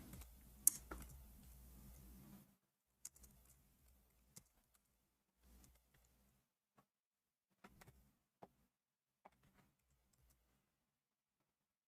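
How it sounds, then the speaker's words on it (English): Quiet computer keyboard typing comes in sparse, scattered bursts of soft clicks with long silent gaps, heard alone at close range. "I'm typing in English again."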